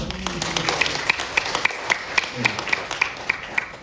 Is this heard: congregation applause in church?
yes